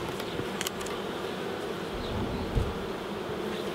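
Honeybees swarm around an opened hive in the UK during a treatment check, giving a dense, continuous buzz close by with individual bees whining past now and then.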